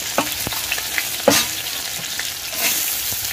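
Green chillies frying in hot oil with cumin, asafoetida, ginger and garlic, a loud steady sizzle broken by a few sharp spatters and stirring scrapes close by.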